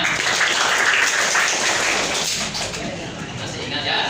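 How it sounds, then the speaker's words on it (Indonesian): Students in a classroom applaud together, a close, busy spatter of clapping hands lasting a few seconds with some voices mixed in. "Tepuk tangan semuanya."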